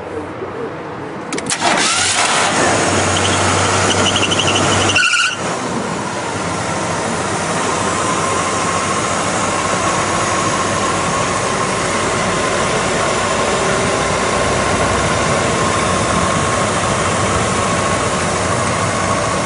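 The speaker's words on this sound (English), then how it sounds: "show you how easy it cranks" A 1983 Chevy K10 4x4 regular cab pickup fires up with a brief cranking burst, then its engine settles into a steady, loud idle that runs continuously with no talk over it.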